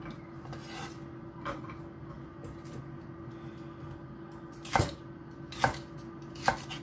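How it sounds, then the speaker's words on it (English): A knife slices through food onto a cutting board for chicken wings with celery and cashew nuts. Three sharp, distinct chops land in the last few seconds, close and clear over a quiet kitchen background. "We slice it."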